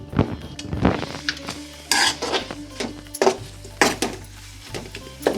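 Tomatoes are stirred into a masala paste in a metal pan for a home-style drumstick curry, with repeated scraping spoon strokes, clinks against the pan and a soft sizzle underneath, close and clear with no talking.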